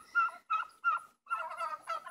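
Several hens give harmonic gobbling calls close by, in quick bursts separated by short pauses, loud and clear with no talking.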